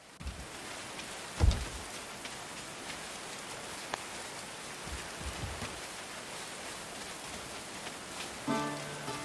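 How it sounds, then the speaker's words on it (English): Steady rain falls on a rainy day in the video game Going Medieval, a continuous hiss of drops with a brief low thump near the start and faint tonal game sounds near the end. "Oh, yeah, it's a rainy day."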